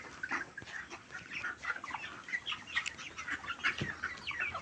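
A shed full of broiler chickens, 27 days old and about 760 birds, keeps up a dense, faint chorus of overlapping clucks and soft calls in an irregular, continuous murmur.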